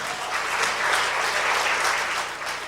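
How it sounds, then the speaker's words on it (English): An audience claps warmly for a guitar player at a country music show, a full, steady round of applause that swells slightly and stays loud throughout. "Go ahead and give him a round of applause."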